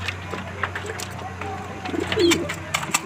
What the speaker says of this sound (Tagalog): Ayan si Dagit oh. US bird pala yan si Dagit